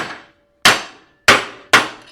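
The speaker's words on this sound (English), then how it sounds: "get myself a ball peen hammer" Ball peen hammer striking a front shock mount stud held in a vise on a 1964–66 Ford Thunderbird, three sharp, loud metallic blows with ringing decay, irregularly spaced and close by.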